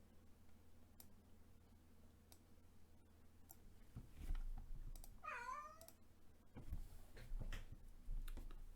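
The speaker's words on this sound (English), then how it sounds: "The cat is making noises." A cat lets out a single faint, wavering meow midway, set against quiet ticking and clicking sounds in an otherwise hushed room.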